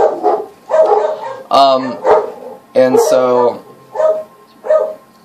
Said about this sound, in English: excuse the dogs, it's the mailman.